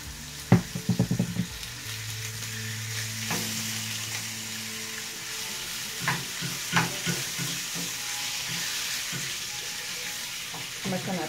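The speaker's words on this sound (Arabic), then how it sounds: "انا غادي نديرو هكا في المقلة، نقلى شي شوية، ندير واحد خوية ديال الزيت" Food frying in a little oil in a pan while bocadillo fillings are prepared, a steady sizzle with occasional stirring clatters and utensil knocks, close and continuous with no talk.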